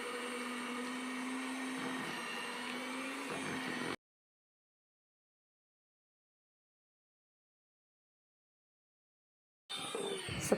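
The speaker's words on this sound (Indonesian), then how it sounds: "kemudian akan saya mix menggunakan kecepatan rendah dulu, baru kemudian saya naikin ke kecepatan yang paling tinggi" An electric mixer beats buttercream with a steady, dense whir that runs alone for about four seconds, then cuts to silence before a brief burst of motor noise returns at the end.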